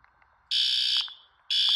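A System Sensor P2R fire alarm horn set to high volume in code 3 pattern blares loud, harsh, buzzing blasts, two long pulses with a short gap, close by, with faint background noise between.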